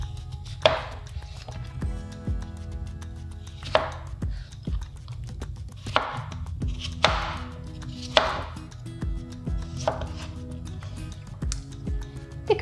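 Knife chopping peeled, washed and patted-dry potatoes into small pieces on a board for a vegan cabbage soup vegetable stew, with repeated crisp chops in irregular bursts over a low steady hum.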